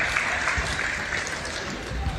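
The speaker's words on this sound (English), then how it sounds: "if we could give a big round of applause to the referees today" Continuous clapping from a crowd at a women's basketball grand final, a steady moderate wash of hands in an indoor court with faint background noise.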